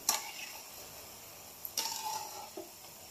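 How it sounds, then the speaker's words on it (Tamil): Seedai dough balls frying in oil in a pan give a faint, soft sizzle, broken by a couple of light scraping stirs and small clinks, with no one talking. "நம்ம வந்து லேசாக கிளறி விட்டுக்கலாம்."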